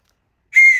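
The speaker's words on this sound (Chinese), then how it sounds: "最后一个这个是什么呢？小小的口哨" A small plastic emergency whistle from an earthquake survival bag gives one short, shrill, loud blast after a moment of silence, close and alone.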